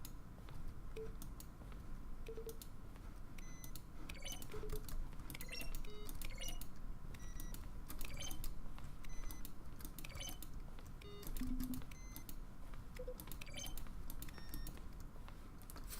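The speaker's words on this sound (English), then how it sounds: "Each sound is a mix of a keyboard stroke and a synthesized tone." Button sounds from The Stanley Parable video game, each a keyboard stroke blended with a synthesized tone, come as a fast, continuous stream of clicks and short pitched beeps over a low steady hum, without speech.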